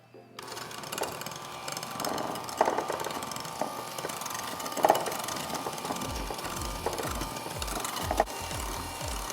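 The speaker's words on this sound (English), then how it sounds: "I'm going to mix it for a few minutes so that the sugar and the eggs are incorporated" An electric mixer beats eggs and granulated sugar together in a bowl for a lemon olive oil cake, giving a steady close whirring drone that runs the whole time with faint rattles and no talking.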